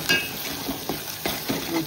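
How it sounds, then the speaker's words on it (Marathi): Ground spice mix of coriander-cumin powder, garam masala and Agri masala sautéing in a hot pan, a steady close sizzle broken by several scraping stirs of a spoon against the pan, with no talking. "मसाले 1 मिनिटासाठी परतून घेऊया।"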